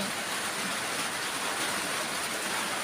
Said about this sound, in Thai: ฝนตกค่ะ